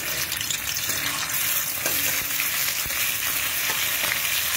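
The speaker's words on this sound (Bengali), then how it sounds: "এবার পেঁয়াজ বাটাটা দিয়ে দিলাম।" Onion paste frying in a little white oil over a low gas flame: a dense, steady sizzle with faint stirring scrapes, close and continuous, no talking.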